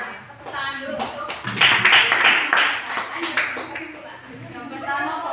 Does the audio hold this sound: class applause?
yes